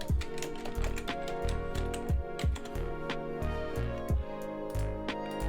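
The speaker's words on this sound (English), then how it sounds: "using the keyboard, I'm gonna type our text." Typing on a computer keyboard during a logo design session in Adobe Illustrator, with a steady run of close, crisp key clicks and thumps at a brisk, uneven rhythm, heard alone over a faint musical background.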